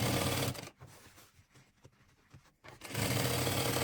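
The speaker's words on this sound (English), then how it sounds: "Sew stitch on both sides." A sewing machine stitches the corners of a fabric shopper bag, running in loud bursts at the start and end with a quieter stretch of handling in between.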